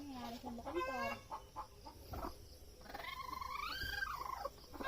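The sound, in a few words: chickens clucking, mother hen being held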